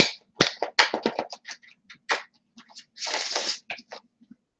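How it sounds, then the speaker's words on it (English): A deck of cards shuffled close by in a quiet room: a quick run of crisp flicks and snaps, then a longer continuous riffle, then a few final taps, with no talking. "So I'm going to shuffle the deck."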